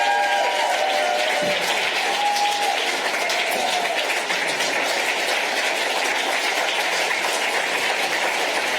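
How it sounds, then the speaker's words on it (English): A large audience gives sustained applause at the close of a National Reconciliation Week oration in Melbourne, a dense continuous wash of clapping with faint tonal murmurs in the background. "can we just give her another round of applause?"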